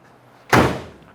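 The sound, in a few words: 1966 Ford Mustang convertible car door shutting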